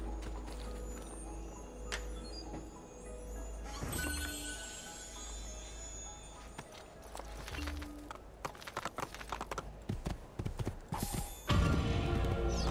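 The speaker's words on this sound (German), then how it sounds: "Oh, ein Pferd." Hoofbeats of a horse in Assassin's Creed 2, a steady clip-clop under constant game ambience, with a brief whinny and busier clattering toward the end.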